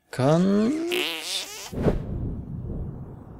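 A long, squeaky cartoon fart from the video game South Park: The Stick of Truth, rising and wobbling in pitch before a short burst and a softer rumbling tail.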